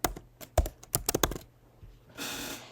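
Typing on a computer keyboard while entering code in RStudio, a close quick run of sharp key clicks followed by a short pause and a second of noisy hiss.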